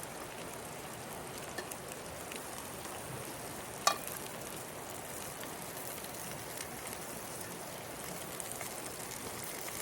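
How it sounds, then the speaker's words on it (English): Bacon and sausages sizzle in a lidded pan over a small firebox, making a steady, soft crackling hiss with one brief sharp click partway through. "put the bacon on top of the sausages"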